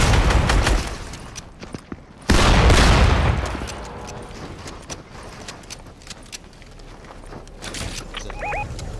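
Gunfire in the video game Fortnite: a dense burst of loud shots at the start, a second heavy blast, then a lingering rumble and faint game effects.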